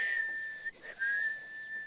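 A person whistles through pursed lips, a clear, fairly steady high tone held in two long stretches with a brief break between them, close and alone without talk.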